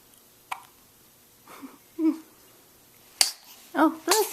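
A baby makes a few short, sharp, breathy bursts, spaced apart and close up, with quiet pauses between them.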